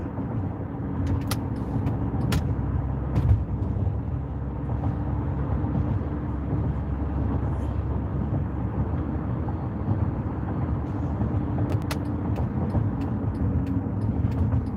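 A car passes nearby on a cold, rainy Chicago street, a steady low rumble of engine and tire noise running evenly throughout, loud and continuous with no talk.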